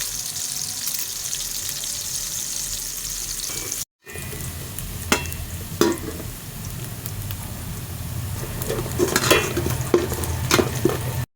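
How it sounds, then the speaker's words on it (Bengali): Whole cardamom, cinnamon and bay leaves fry in hot oil with onions for a Bengali pulao, giving a steady close sizzle with occasional stirring scrapes and clicks, after a brief cut midway; no talking. "এখন আমরা দিয়ে দিচ্ছি গরম মশলা, এলাচ, দারচিনি এবং কিছু তেজপাতা।"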